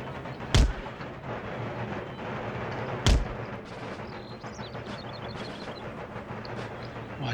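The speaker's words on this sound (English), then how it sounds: "Artillery should be pretty much in position by now" Artillery cannons fire in the Empire Total War strategy game: two loud, booming blasts about two and a half seconds apart, with a lingering battlefield rumble and scattered distant crackle between and after them.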